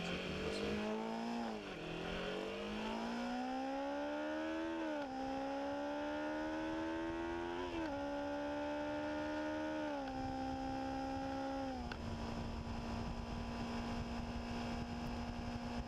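A mine ride engine accelerates hard, rising in pitch and dropping with each gear shift near 10,000 RPM, several shifts in sequence before settling into a steady high drone at speed, close and loud without talk.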